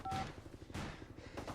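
Speed-dial tones from a mobile phone, a brief high beep followed by soft, low-level handling noise, heard close and alone.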